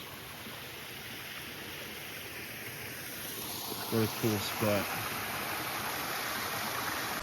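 A cold spring-fed creek on the Cold Spring Hollow Trail in Arkansas flows with a steady, soft rushing hiss. Someone speaks briefly partway through, over the water.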